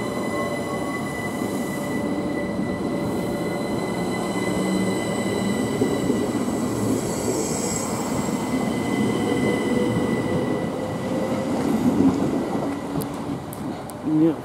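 A Southern Class 377 electric passenger train passes at Emsworth station, a steady loud rumble of wheels on rail with tonal motor whine and some squeal, close by and sustained throughout. Faint voices sit under it.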